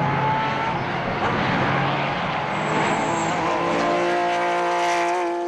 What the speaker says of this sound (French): La Ferrari de Koens mène toujours les débats, mais les deux Porsche 997 GT3 S de Soulet et Kauberts se montrent de plus en plus menaçantes